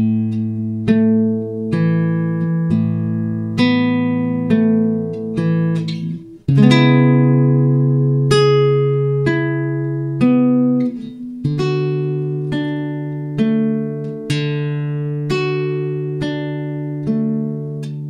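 Acoustic guitar fingerpicking at a slow pace, with clear plucked notes ringing in a steady pattern, close and prominent with no talking over it.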